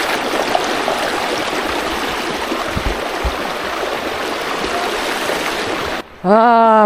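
Loud, steady roar of cold river water rushing over stones at Sada Pathor in Bholaganj, Sylhet, filling the scene with dense broadband noise before cutting to a brief voice at the end.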